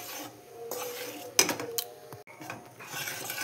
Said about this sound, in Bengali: গুড়টা দিয়ে সমানে নাড়াচাড়া করে যেতে হবে, আর আমি হাই ফ্লেমেই রেখেছি।